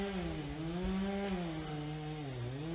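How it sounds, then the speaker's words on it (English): A chainsaw runs steadily at a distance in an alpine valley in Austria or Italy, a droning motor whine that rises and dips slightly in pitch, faint and continuous with no voices. "Chainsaw."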